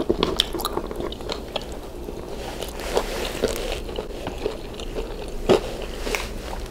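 Someone eats spicy crispy pork belly Bicol Express with rice, making close, moist chewing and soft crunching bites at a steady pace, with a few louder crackly bites and no talking.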